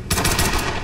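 A short burst of automatic gunfire from the Tomb Raider (2013) video game, loud and close, packed into under a second.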